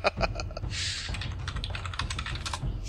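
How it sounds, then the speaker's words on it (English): Fast, clattering keyboard typing in close, uneven bursts of clicks, fairly quiet, with a brief rush of noise partway through and no speech. "Do you hear the frustrating typing?"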